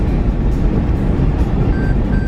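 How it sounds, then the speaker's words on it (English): A car's lane departure warning beeps twice inside the moving vehicle, short thin tones over loud, steady road and engine rumble, with no talk. "it was beeping because I was, like, leaving the lane"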